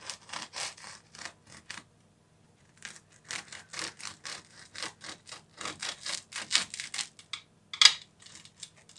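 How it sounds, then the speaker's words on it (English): A knife saws through a loaf of homemade bread, cutting it into toast slices in bursts of quick back-and-forth strokes, close and clear, with a short pause before a second run of cuts and no talk. "Now all you're going to do is to cut it into toast."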